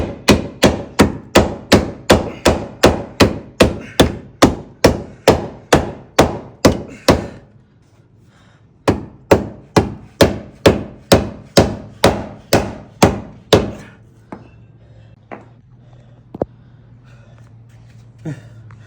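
Loud, evenly spaced hammer strikes ring on the metal pinch weld of a 3rd gen Toyota 4Runner in two long runs separated by a brief pause, then a few fainter taps trail off.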